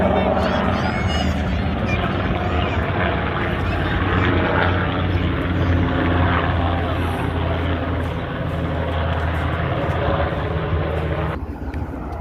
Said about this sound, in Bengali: ইয় হেলিকপ্টার এটা